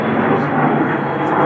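A private jet passes overhead near a house, a loud, steady broadband engine roar filling the whole short stretch without letup.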